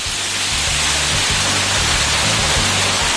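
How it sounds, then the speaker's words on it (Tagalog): Steady, dense rush of a waterfall inside Sansapan Cave in General Santos City, a continuous close roar of falling water with a low rumbling hum underneath and no voices. "sa loob ng kuweba, maaaring mag-refresh sa malamig at napakagandang waterfalls"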